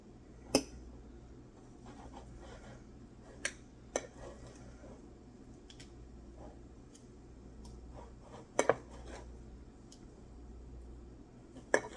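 Pork chops cut on a plate that slides around, giving sparse sharp clicks and scrapes of cutlery against the plate over a quiet low hum, with several distinct knocks spread across the clip.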